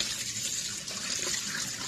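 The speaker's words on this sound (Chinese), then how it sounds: "把这个菜洗一洗" Steady gush of running tap water over vegetables in a sink being washed, continuous and close, with no talk.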